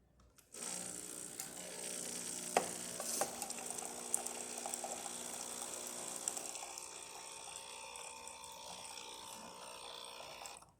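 Steady hot water gushes and hisses from a Breville Barista espresso machine for several seconds, with a faint gurgle and a few clicks, tapering at the end.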